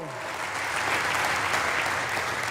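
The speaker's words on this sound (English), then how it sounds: "Standing ovation for police. Now Republicans clap." Members of Congress in the House chamber give a standing ovation for police, a dense, steady wash of applause filling the hall, with a voice faintly underneath.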